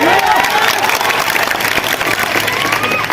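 Audience at a political rally clapping together, a dense, loud wash of applause that holds steady, with crowd voices mixed in.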